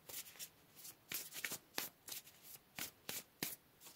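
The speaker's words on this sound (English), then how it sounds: "Let's get some more cards here for Virgo." Tarot cards being shuffled by hand in a quiet room, a rapid series of crisp riffling bursts about every third of a second, close and clear, with no voices.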